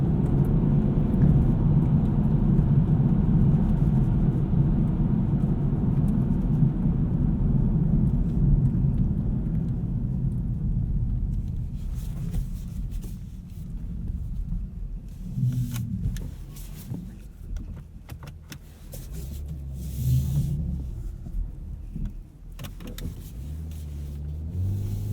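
Deep, steady engine roar of a 2020 BMW 840i xDrive Gran Coupe with its inline six accelerating hard from launch, heard from the cabin, easing into lower rumbles and surges later on.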